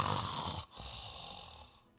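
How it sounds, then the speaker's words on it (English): Gobbler creatures in the Wizard101 game, in the Karamelle candy corn farm, give a raspy snore that fades into a fainter breathy tail, with no talking. "The gobblers are just snoring."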